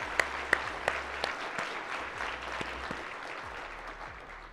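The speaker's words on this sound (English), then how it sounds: "We need to owe them a round of applause." Applause for law enforcement and first responders at a quarterly luncheon, heard as a few sharp claps at the start followed by faint, scattered clapping that thins out over several seconds.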